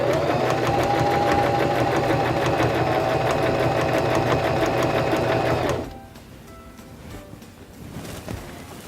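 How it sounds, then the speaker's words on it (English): A portable sewing machine runs steadily through fabric for several seconds with a loud, close mechanical hum and rapid needle rhythm, then stops abruptly, leaving faint handling noises. "Now we can press down on our foot control and sew."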